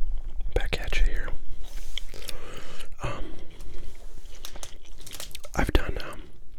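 Close, soft whispering mixes with wet gum chewing and smacking, plus occasional crinkles from baseball card cello packs from 1990 Topps being handled near the microphone.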